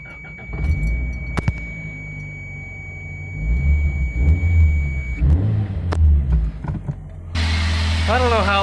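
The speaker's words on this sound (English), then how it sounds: "I don't know how this car still starts up after this many miles as well as it does" A high-mileage Toyota Tercel engine rumbles and revs unevenly at close range, with clanks and handling noises, then settles into a steady, louder running drone near the end.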